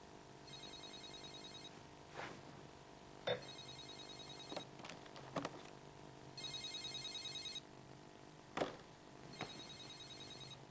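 A telephone rings indoors in repeated electronic trilling bursts about every three seconds, moderately loud, with a few knocks and shuffling noises between the rings and no speech.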